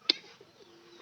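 A pigeon kept at home gives a single brief coo near the start, then only faint background hiss for the rest of the moment.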